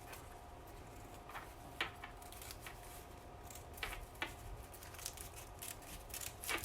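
Scissors snip through a stack of vintage sheet music paper, making quiet, close, irregular cuts with a few crisper snips standing out against a faint background hiss.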